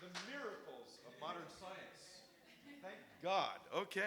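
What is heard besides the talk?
No distinct noise like a dog, phone or traffic.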